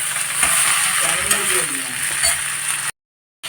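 Potato masala seasoned with salt is sautéed in a pan for poori masala, giving a continuous close sizzle with stirring scrapes before a sudden brief silence near the end.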